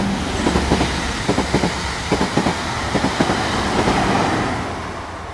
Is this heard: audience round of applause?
no